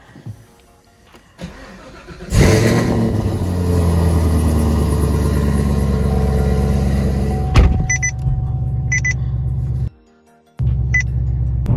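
A car engine cold-starts with a quick cranking whir that catches into a loud, steady idle, followed by a few short electric-window motor whines, a brief cutoff, then the idle returning.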